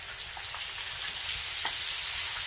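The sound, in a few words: fish frying in a pan, being turned over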